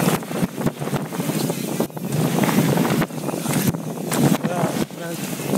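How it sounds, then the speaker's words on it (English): Strong coastal wind buffets the microphone in loud, rumbling gusts with surf and waves behind, a continuous blustery roar that surges and dips for several seconds. "I need to come here when it's not so windy."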